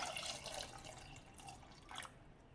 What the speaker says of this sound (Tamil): அதுக்கு தேவையான அளவு தண்ணி ஊற்றிட்டு